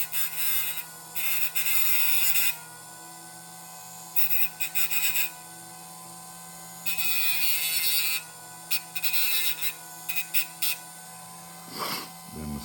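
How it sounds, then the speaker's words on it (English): A small hobby tool shaves the back of a model car kit part, giving repeated buzzing, scraping passes that start and stop in short bursts close by. "Shave the back."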